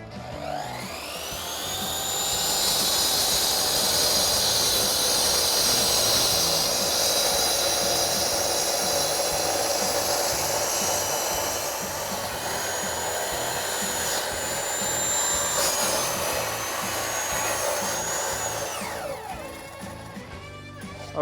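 Evolution electric concrete saw with a general-purpose diamond blade cutting through a large insulation block, a loud sustained high-pitched whine and grind for about eighteen seconds, then the blade winding down, with no talking.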